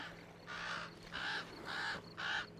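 A crow caws four times in a steady, evenly spaced series, each harsh call loud and close against a quiet background, with no talking.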